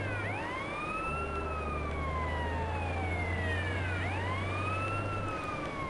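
Police-style vehicle siren in the GTA San Andreas video game, wailing steadily up and down in two long sweeps over a continuous low engine drone, loud and close without any talk.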